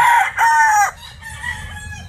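A golden boy gamefowl rooster crows close and loud in two sharp bursts, then fades into quieter clucking and background noise.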